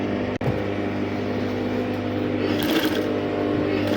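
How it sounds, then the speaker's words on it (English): A sewing machine stitches the main body pieces of a structured-sleeve garment, giving a steady continuous mechanical hum throughout, with a brief dropout near the start and no talking. "So now I'm going to sew the main bodies the same way I have sewn the lining before turning them out against each other."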